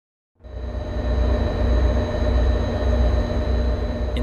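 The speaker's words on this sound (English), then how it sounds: "HSP46, twinned with modern bi-level equipment on the bustling rails out of Boston South and Back Bay, out onto the busy Framingham-Worcester line." An HSP46 diesel locomotive hauling bi-level commuter cars on the Framingham-Worcester line in Train Sim World 5, a loud, steady rumbling drone with a constant engine hum that starts suddenly and continues alone.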